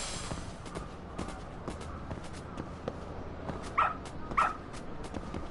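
A dog in the video game Lost Judgment gives two short, sharp barks near the end, over a steady game ambience of soft footsteps and background noise.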